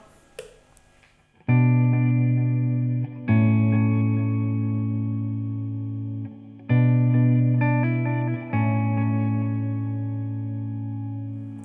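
Sustained electric guitar chords ring out through a Blackstar Dept. 10 AMPED 2 amp on its shimmer reverb setting, each strum blooming into a long, bright, glistening tail before the next.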